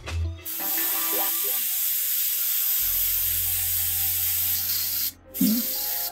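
An airbrush loaded mostly with solvent sprays in a continuous close hiss, cutting off briefly twice and then starting again, with no talk over it.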